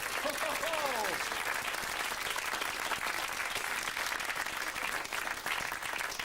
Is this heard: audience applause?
yes